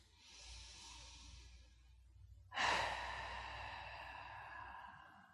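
During a lower-back relief breathing practice, a slow open-mouth exhale follows a soft inhale, breathy and close but quiet, with no talk.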